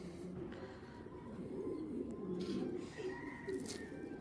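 A pair of large racer pigeons, male and female, coo softly and repeatedly nearby, low burbling calls continuing at a quiet level with faint background noise.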